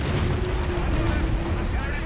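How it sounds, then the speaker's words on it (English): Tanks fire in a video game, a dense run of heavy, rumbling artillery booms rolling close and loud, while a voice talks over the barrage. "A load of loud, tiny tanks."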